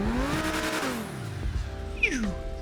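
Progen Luiva sports car engine with turbo and dump valve in GTA V, revving up and dropping off with a quick whoosh on the lift, then a short squeal and another rise, fairly quiet.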